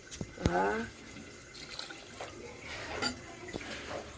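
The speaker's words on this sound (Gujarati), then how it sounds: "હવે પૌવા ધોવા પડશે આપણે" Water splashes and trickles in short bursts as flattened rice is rinsed in a bowl, with brief runs of tap water and soft sloshing.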